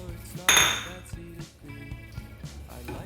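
Fried peanuts and curry leaves tipped into a pan of poha, a bright metallic clink followed by soft scraping and tapping of utensils against the pan, up close, with faint talk in the background.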